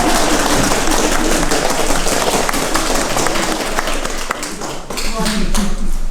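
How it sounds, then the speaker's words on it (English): Guests at a wedding ceremony applauding after the vows, a dense continuous patter of clapping that fills the room, loud and close, with some voices mixed in. "I think that deserves a little round of applause."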